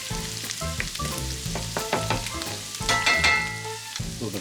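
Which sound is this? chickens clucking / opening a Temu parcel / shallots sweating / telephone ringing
shallots sweating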